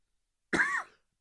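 One short, sharp cough, close and clear, with silence before and after.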